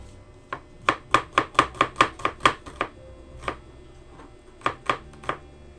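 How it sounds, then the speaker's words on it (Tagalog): A knife chops an onion on a board in a home kitchen, with a quick run of about ten sharp, evenly spaced cuts, then a pause and a few scattered chops, all close and clear with no talking. "Hihiwain na natin."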